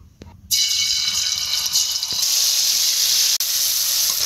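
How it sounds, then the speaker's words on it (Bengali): Ground spice paste goes into hot oil for a Bengali chicken dish and sizzles loudly, a sudden burst of bright hissing spitting that stays strong and steady, with a brief dip near the end. "ভেজে রাখা বাটা মশলাগুলো এখন তেলে দিয়ে দিচ্ছি।"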